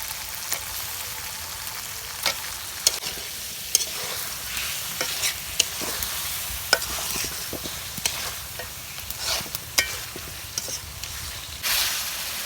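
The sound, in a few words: fish frying in a pan with onions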